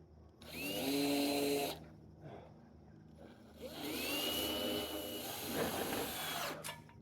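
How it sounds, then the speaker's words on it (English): Power screwdriver driving fasteners into metal roof panels over flat wooden rafters on a DIY RV barn, two loud whirring bursts of a few seconds each separated by a quieter gap, with outdoor ambience between them. "Now I think we can just screw everything down"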